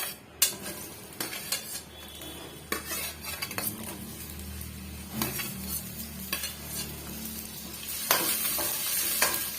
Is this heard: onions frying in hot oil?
yes